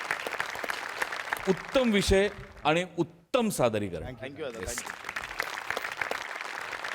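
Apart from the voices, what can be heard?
audience applause after comedy performance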